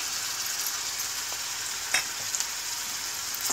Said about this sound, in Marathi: मसाले असे तेलात परतायचे आहेत